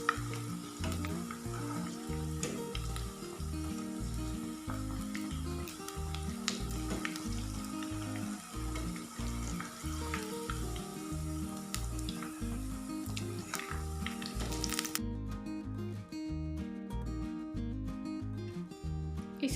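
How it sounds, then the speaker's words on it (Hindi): Cabbage pakoras fry in hot oil with a steady, close sizzle and bubbling that runs throughout, under background music and with no speech. "पकौड़े हमारे यहाँ पर फ्राई हो चुके हैं,"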